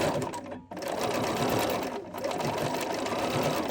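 A sewing machine runs steadily, stitching basting stitches while blind hemming, with a brief pause near the start and another dip around two seconds before the motor resumes.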